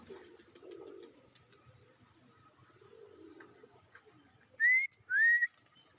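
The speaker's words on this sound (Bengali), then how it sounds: "দেখেন আকাশে এখনো উঠতেছে কবুতর গুলা" Soft low coos from Giribaz and local pigeons murmur in the background, then two loud, clear rising whistles ring out close by.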